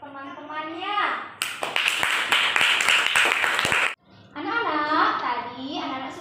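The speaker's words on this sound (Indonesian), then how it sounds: "berikan tepuk tangan untuk teman-temannya" Schoolchildren in a classroom clap for their classmates after a song performance, in a dense burst of applause lasting about two and a half seconds, with children's voices before and after.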